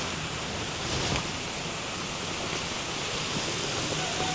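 A river flowing steadily along a dead-end path near a cemetery, a constant broadband rushing wash with no change in level, moderately loud and unbroken.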